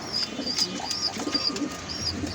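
Pigeons cooing inside a pigeon loft, one hen calling like a cock bird, with soft repeated coos and low murmurs in a steady close rhythm alongside faint rustling and chirps.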